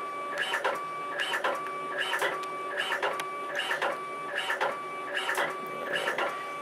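A Fargo HDPii dual-sided card printer backing a card out, a repeating mechanical whir-and-clack cycle about every 0.7 seconds, steady and close, with no talking.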